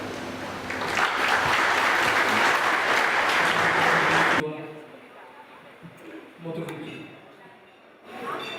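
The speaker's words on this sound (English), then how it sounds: "Let's give a big round of applause." A dinner audience at the Earth Hour 2015 event gives loud, sustained clapping for about four seconds, which cuts off abruptly and leaves quieter room sounds with a few scattered voices.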